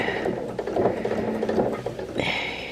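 Sewing machine stitching denim while upcycling a jean skirt, a close, steady mechanical whir and clatter that keeps running throughout, no voices over it.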